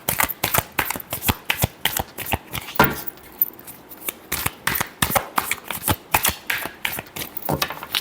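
Tarot cards being shuffled in a rapid series of crisp riffling bursts, close and loud, with a short pause near the middle; no voices.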